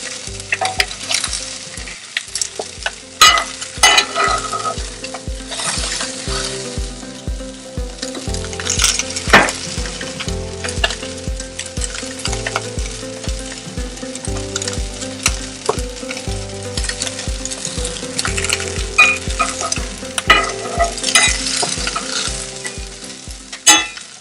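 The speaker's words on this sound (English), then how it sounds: "moving it to different areas of the pan that are cleaner than where you initially put the fish will help it brown evenly as well" Snapper fillet fries in a pan and is pushed around to brown its skin evenly, a constant loud sizzle broken by scraping and clinks of a utensil against the pan throughout.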